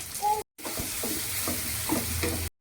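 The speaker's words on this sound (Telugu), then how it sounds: "ఇప్పుడు ఇందులో టమాటా వేసుకుందాం" Chopped tomatoes land in a hot pan of fried onions and ginger-garlic paste for an egg curry, setting off a soft steady sizzle with a few scraping stirs and a brief cut partway through.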